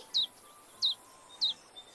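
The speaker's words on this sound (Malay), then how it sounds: "Tengok, burung pun menyanyi." A bird gives three clear, high, descending chirps about half a second apart, plus a faint fourth note near the end, against a quiet outdoor background.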